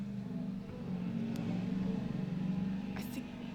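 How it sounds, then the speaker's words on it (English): A loud car passing outside produces a steady, low engine rumble that holds throughout, with faint voices murmuring over it. "Okay, the loud car is gone."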